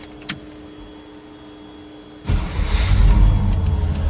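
A 1955 Ford Fairlane Crown Victoria with a 272Y V8 and Ford-O-Matic transmission is cranked and catches abruptly, then settles into a loud, deep, rumbling run close by.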